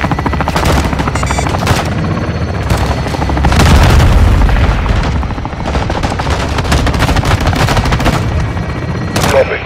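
Called-in fire strike in Call of Duty: Modern Warfare II, a loud, dense barrage of booming explosions and rapid gunfire rolling continuously, with heavier blasts swelling in the middle.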